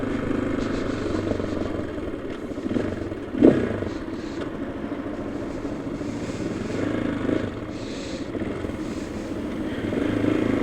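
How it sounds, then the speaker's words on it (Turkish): A motorcycle engine with no catalytic converter, a small GS-style bike, running steadily with a deep, rough rumble, briefly swelling louder partway through before settling back. "Motorun arkadaşlar sesi çok güzel. Üzerine katalizör yok."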